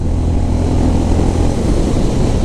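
A Honda CB350RS motorcycle accelerating in fourth gear, a loud steady low engine drone with heavy wind rush, heard up close and alone with no change in pitch across the short stretch.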